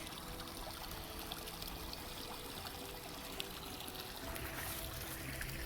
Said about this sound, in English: See that little stream flowing?